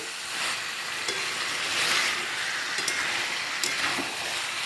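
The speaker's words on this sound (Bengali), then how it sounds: "মাংসটা এবার কষাতে বসিয়ে দিলাম" Chicken stir-fried in a pan for a crispy chicken dish, a continuous close sizzle broken by scraping stirs of the spatula at irregular intervals.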